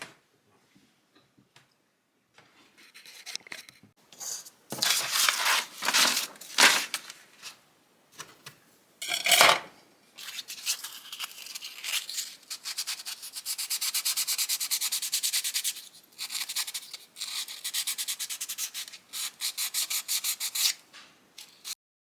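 Small fuzzy wooden pieces being sanded by hand, with irregular bursts of gritty rubbing and scraping that start after a quiet opening and grow more continuous, close and fairly soft.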